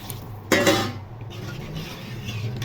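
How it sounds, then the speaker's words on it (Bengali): A spoon scrapes and clinks against a pan while fish curry spices are stirred with water, one clear scrape near the start followed by a soft, steady background hiss. "এখন নেড়ে চেড়ে ঢেকে দিব।"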